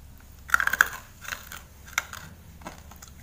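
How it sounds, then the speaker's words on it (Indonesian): Crunchy fried chicken (ayam geprek) being bitten, a short cluster of sharp, close crunches followed by a few softer crackles and quiet chewing. "ini ayamnya kriuk-kriuk"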